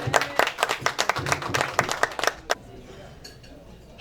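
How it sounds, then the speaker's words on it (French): A small audience at a live poetry show claps in brisk, distinct beats for about two and a half seconds, then the clapping stops and a quiet room is left with faint background noise. "On applaudit encore une fois"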